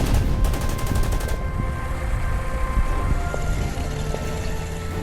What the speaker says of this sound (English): Airplane firing at anti-tank gun.